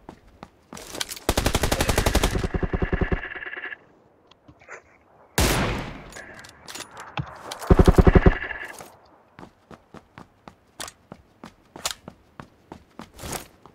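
Gunfire in PUBG PC Lite, loud rapid automatic bursts close by, pauses between them, then a run of sharp single shots spaced out at a steady pace.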